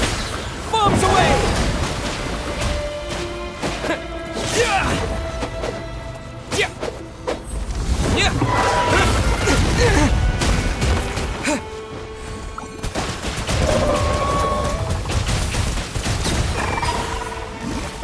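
Bombs burst in the video game Genshin Impact in several loud booming, crashing waves mixed with game music and character voices.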